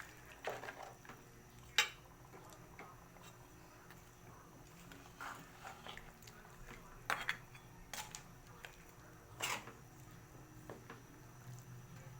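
A spoon stirs broth for pork and beef caldereta in a pot, giving soft scrapes and a few sharper clinks of metal against the pot, close but faint over quiet background noise.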